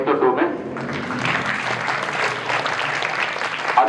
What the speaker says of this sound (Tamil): அவருக்காக ஒரு கைத்தட்டுவோமே